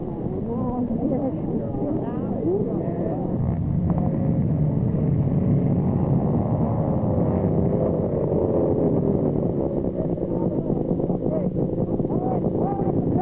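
Engines of racing snowmobiles idle and rev together at the start line of a 1971 race in West Yellowstone, a continuous loud rumbling drone under a man calling out over the noise.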